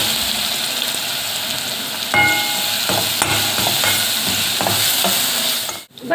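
Red chilies fry in hot oil with garlic and cumin paste for tomato chutney: continuous close sizzling, with spoon scrapes and stirring knocks against the pan and a brief dip in the sizzle near the end.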